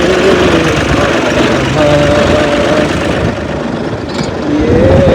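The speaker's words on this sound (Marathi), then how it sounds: "आता मी चाललो ट्रॅक्टर घेऊन उन्हात आणायचे" A tractor engine runs steadily and close by on a farm field being readied with a rotary tiller after a chrysanthemum crop was cleared. It gives a continuous droning rumble with a faint whining tone riding on top.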